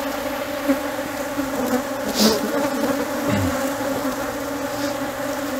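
Honey bees swarm around an opened beehive during honey-super placement, a dense continuous buzz filling the air with individual bees droning close by.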